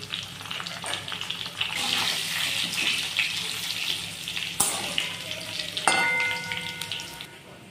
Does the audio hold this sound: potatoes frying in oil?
yes